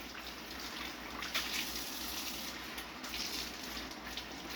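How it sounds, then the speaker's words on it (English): Hot water running steadily from a kitchen tap into a cup, a continuous soft gushing hiss with slight fluctuations, fairly quiet and close, without any voices. "A lot of hot water."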